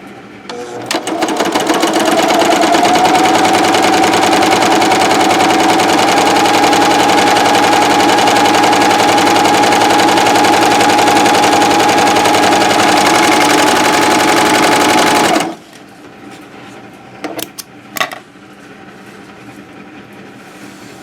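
Janome CoverPro 3000 coverstitch sewing machine stitching fabric with a seam guide: a loud, close, continuous mechanical whir for about fifteen seconds, then it stops, leaving quiet handling clicks.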